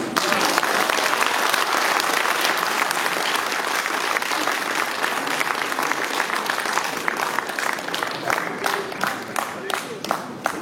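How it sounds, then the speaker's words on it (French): An awards-evening audience bursts into sustained applause with scattered cheers, a dense wall of clapping filling the hall throughout and holding loud and steady. "S'il vous plaît, acclamez très fort mon petit frère Abdou"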